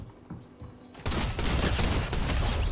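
Sustained burst of automatic gunfire from a weapon in the video game Fortnite, starting abruptly after a quiet moment and continuing loud and dense to the end.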